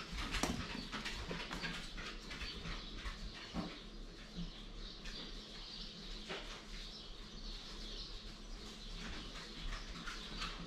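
A dog whimpers now and then amid chirping birds outdoors, set against a constant, moderately loud background wash.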